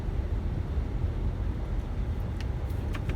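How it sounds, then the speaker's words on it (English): A car air conditioner runs inside a moving car during a night-shift nurse's drive, giving a steady low rumbling blower hum with a few faint ticks near the end and no voices. "if y'all hear some noise, that's my air conditioner"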